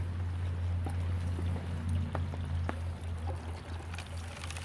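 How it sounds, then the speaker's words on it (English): Screened gravel rolls and trickles down a homemade mini sluice box, a continuous close rushing pour over a low steady machine hum, with a few faint ticks of stones. "I don't know if y'all can hear the gravels rolling down"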